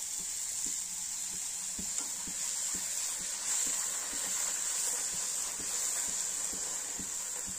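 Puris deep-frying in hot oil over a medium flame give a steady bright sizzle and hiss, with faint soft taps of a slotted spoon stirring and lifting them, close and continuous with no talk.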